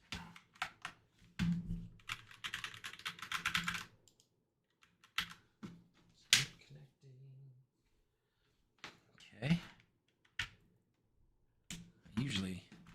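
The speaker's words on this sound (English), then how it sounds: "Oh, what's wrong with my keyboard? Need the keyboard to work here." Irregular clicks and short bursts of key presses from a computer keyboard, close and fairly quiet, come in scattered clusters with pauses, and a person speaks between them.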